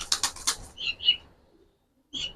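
Pigeons, Giribaz fancy breeds, flutter their wings in several quick, close bursts, then a short silence before another flap.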